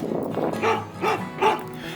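A big dog on the River to River Trail between Grand Tower and Alto Pass gives three short, whining barks and whimpers close by, evenly spaced over a low background.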